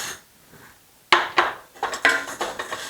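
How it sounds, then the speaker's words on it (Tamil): 100 grams of toor dal tipped into a hot kadai: a sudden rattling clatter of dry lentils hitting the metal pan, followed by several scraping, clinking stirs, close and fairly loud, with no voices. "கடாய் சூடான உடனே நான் எடுத்து வச்சுருக்க 100 கிராம் துவரம் பருப்பு அதில் போடுறேன்."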